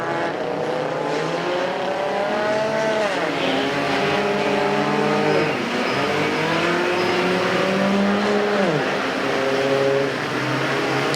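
Mini stock race cars at Perris Auto Speedway running a figure 8 main event at night, their engines droning loud and steady, with repeated rises and falls in pitch as the cars come off the throttle for the corners.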